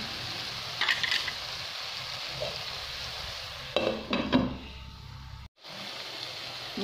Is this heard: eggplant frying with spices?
yes